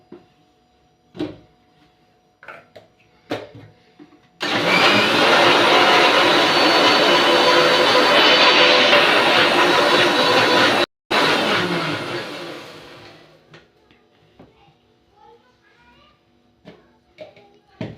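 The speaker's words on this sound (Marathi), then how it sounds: "आता आपण याला मिक्सरला फिरून घेणार आहे" A kitchen mixer grinder blends malai cream with a little water, a loud close whirring roar that runs for several seconds, stops briefly and restarts, framed by soft handling clicks before and after.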